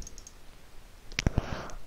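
A computer mouse clicks a few times in quick succession near the end, sharp close taps after a quiet stretch of faint room noise.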